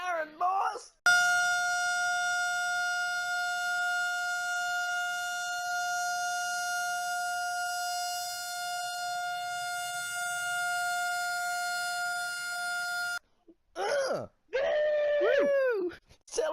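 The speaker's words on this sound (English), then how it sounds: "Sound that fucking siren, boys!" A loud, steady celebration siren wails on one sustained tone for about twelve seconds, then cuts off and excited voices break in.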